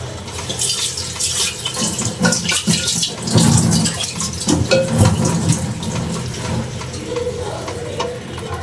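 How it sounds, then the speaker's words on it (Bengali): A kitchen tap runs steadily while marinated meat in a rice cooker pot is washed and filled with water, making a loud, continuous rush of flowing water with occasional splashes and clatter. "তো এখন এটা ধুয়ে পানি দিয়ে দেব।"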